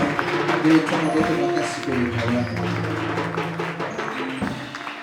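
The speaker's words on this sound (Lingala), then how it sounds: "Acclamons plus fort que ça." Sunday church congregation clapping more loudly in worship, a busy, continuous patter of hands over sustained musical tones and voices, fading slightly toward the end.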